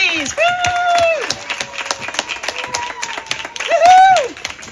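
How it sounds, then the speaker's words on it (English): Audience at the Discovery Museum Nature Play Festival cheers and claps for museum staff, with scattered hand claps, a loud nearby voice whooping at the start and again near the end, and talk in between. "Can we give them a big cheer, please?"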